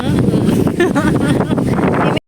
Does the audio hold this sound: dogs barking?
no